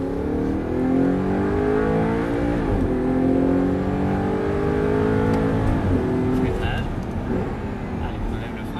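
An Audi R8 V8 at full throttle, its engine note climbing loud and close through rising gear pulls, with short dips between shifts as the revs fall and build again, heard alone.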